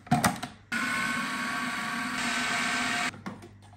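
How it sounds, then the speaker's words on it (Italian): An S-blade blender whirs steadily for about two and a half seconds as it blends eggs into dough. The start and stop are abrupt, with short clatters of handling before and after. "lo mettiamo all'interno di un frullatore. Io sto usando un frullatore con le lame a S."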